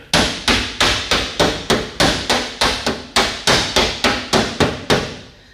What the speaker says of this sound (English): if the hammers are too small, well, I will go ahead and use two dollies against each other.